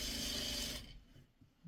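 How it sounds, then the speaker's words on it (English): Sewing machine stitching a fabric piece onto a Christmas tree quilt block, a steady close mechanical whir and rapid needle clatter for most of a second, then stopping abruptly, leaving only faint handling noises. "we're going to sew this on top"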